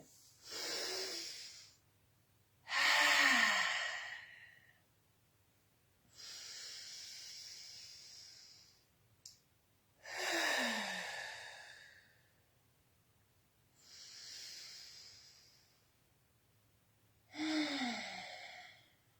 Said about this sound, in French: je vais commencer par prendre 3 grandes respirations